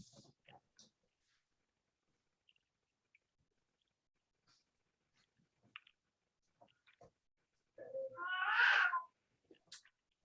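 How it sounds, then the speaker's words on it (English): A cat lets out one loud, drawn-out meow for attention near the end, close by, after long quiet with faint scattered clicks. "Is that an angry kitty cat?"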